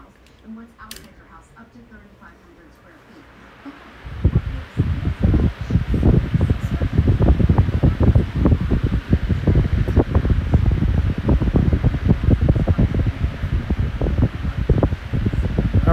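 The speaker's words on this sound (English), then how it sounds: "Here's my TPI high velocity fan with a full-size Mcmillan motor." A 12-inch TPI high velocity fan with a full-size McMillan motor runs on low, starting up after a few quiet seconds into a loud, steady rushing drone with buffeting air pulses.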